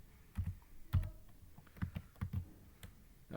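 Soft, close clicks of typing on a computer keyboard, a short irregular burst of keystrokes at low volume.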